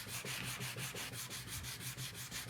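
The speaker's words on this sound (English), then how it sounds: "So just sanding it a little bit." Close, brisk sanding of wood with a block, a continuous run of quick regular rasping strokes with no voices.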